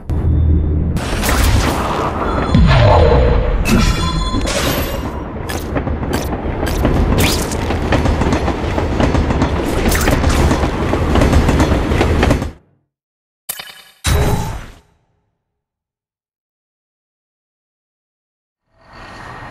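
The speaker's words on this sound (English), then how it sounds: "in order to get to Aunt May's, we need to catch a train" Train ride in The Amazing Spider-Man 2 video game: loud rumbling rail noise with clattering and banging impacts for about twelve seconds, then cutting off abruptly to near silence with a few brief bursts.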